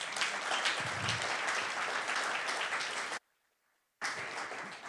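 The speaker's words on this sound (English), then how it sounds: "So big applause to the Workspace team." Sustained applause from a conference audience, a dense wash of many hands clapping for several seconds, then a sudden cut to near silence before the clapping resumes just as loudly.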